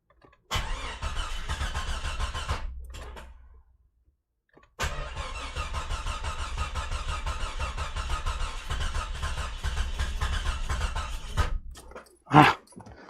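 The rebuilt 4.0 engine of a Jeep XJ runs after its first start, a close, rough idle that cuts out, restarts and runs on unevenly, ending with a short sharp squeal.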